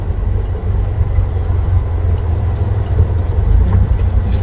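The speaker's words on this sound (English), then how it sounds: "See, I'm trying to keep my revs very low." Safari vehicle engine held at low revs, a steady deep rumble running continuously and close throughout, with no voices over it.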